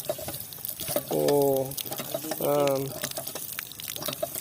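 A hand pump gushes water in two distinct surges, each lasting about half a second with a tonal squeak, with soft talk and clatter in between.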